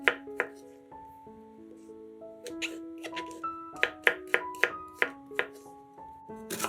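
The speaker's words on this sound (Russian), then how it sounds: "Шампиньоны моем и нарезаем небольшими кубиками." A knife dices mushrooms on a cutting board in quick, uneven bursts of crisp taps, with soft background music underneath.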